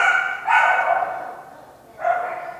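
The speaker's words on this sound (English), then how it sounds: "That's that woman with that stupid dog." A dog barks close by, two loud yapping bursts separated by a short pause, with whimpery overtones and no talking.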